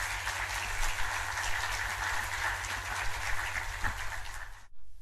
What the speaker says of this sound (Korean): 우리 귀한 목사님께 최고의 박수로 우리 감사의 인사를 드렸으면 좋겠습니다